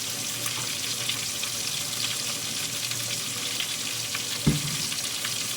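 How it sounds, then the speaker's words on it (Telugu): Fish frying in hot oil gives a dense, continuous sizzling hiss, close and steady, with one dull knock partway through. "ఆయిల్లో వేసాను, బాగా వేగి బయటకు వచ్చాక చూపిస్తాను"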